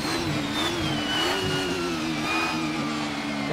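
A race car engine in the Assetto Corsa sim holds a steady, loud high-pitched rev with a sustained whining drone and slight pitch wobble, heard alone without talk.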